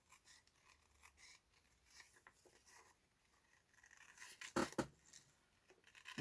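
Scissors fussy-cut around a paper shape in short, close, soft snips and rasping slides, ending with a louder, crisp cut near the end.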